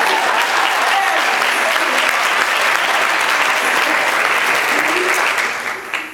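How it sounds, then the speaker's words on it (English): Sustained applause from a large audience at a speaking event, a thick, loud wash of clapping holding steady for six seconds before thinning slightly at the very end. "You better clap for that"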